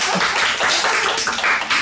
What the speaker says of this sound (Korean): 박수 한번 주십시다.